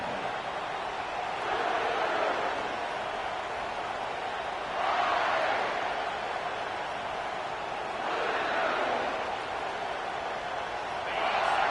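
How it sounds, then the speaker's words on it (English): Steady roar of a stadium crowd in an NCAA college football video game, South Carolina hosting Kentucky, swelling in broad waves every few seconds and holding at a constant, distant level with no talk. "This crowd trying to show them what it's going to be like all day in this house."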